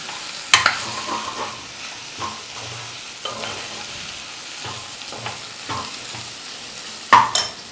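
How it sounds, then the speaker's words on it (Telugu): Ginger garlic paste and chili powder fry in a pan for Boti Gongura curry, a steady sizzle broken by several sharp scraping stirs, close and fairly loud, with no voices. "కొంచెం వేగనిద్దాం అల్లం వెల్లుల్లి పేస్ట్ అయితే బాగా అంటిందండి"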